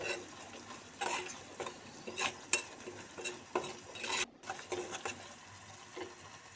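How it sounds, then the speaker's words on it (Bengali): Spices are stirred and sautéed in oil in a pan for a fish curry, heard as a soft continuous sizzle with repeated scraping strokes of a spoon against the pan, close and fairly quiet, with no talking. "তো এবার মশলাগুলো আমি কষিয়ে নেব কিছুক্ষণ"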